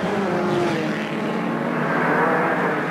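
Production saloon cars racing at the 1987 Leinster Trophy, including a Toyota Corolla GT, with engines droning loudly and continuously as several cars run close together.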